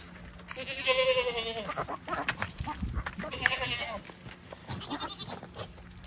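Several bleats from a baby goat in a pasture, nearby and fairly loud, with shuffling and faint background noise between calls.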